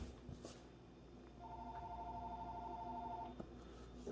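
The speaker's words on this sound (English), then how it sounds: "I get a phone call." A telephone rings once in a faint, steady electronic trill lasting about two seconds, in an otherwise quiet room.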